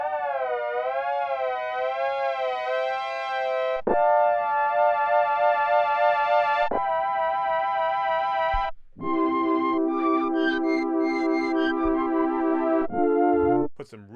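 Synthesizer tone whose pitch wobbles up and down under an LFO, then switches to steady sustained notes and a brighter chord-like passage, loud and alone throughout.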